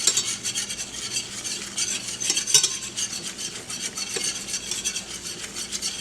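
A whisk stirs flour in a pan for country gravy, scraping rapidly and steadily against the metal over a soft sizzle, close and continuous.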